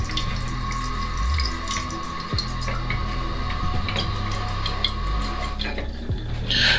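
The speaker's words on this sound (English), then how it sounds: "the water can basically seep out slowly. It's slow, but it's constant." Steady running water from a toilet tank, slowly but constantly seeping through a seam, heard as a continuous trickle and hiss with a faint ongoing drip texture, close and fairly quiet.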